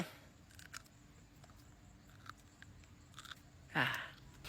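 A fresh chili pepper is bitten and chewed outdoors, with faint scattered crunchy clicks followed by one louder, close crisp bite near the end.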